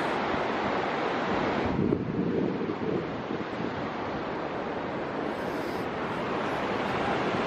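Continuous rushing of fast-moving water, loud and close, a steady broadband roar with some wind buffeting.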